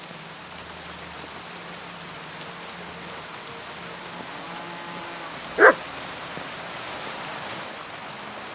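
A single short dog bark rings out mid-distance over a steady wash of rain in Kingdom Come Deliverance 2, with a faint low rumble underneath.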